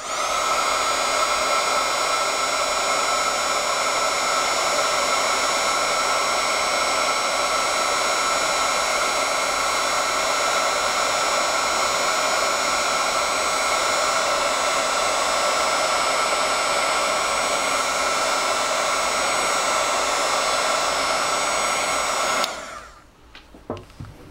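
A loud, steady high-pitched blowing roar of a heat gun runs nonstop at close range, then cuts off abruptly near the end, leaving near silence.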